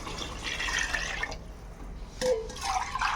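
Water is poured into rice in a pot for chicken pulao, a close splashing gush that breaks off briefly and then resumes.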